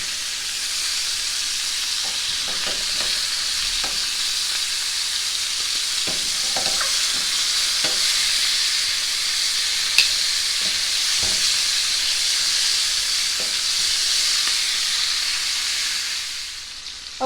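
Oxtail pieces searing in a pan for oxtail soup, a loud, steady close sizzle and hiss that runs throughout, with occasional light clicks of stirring or turning.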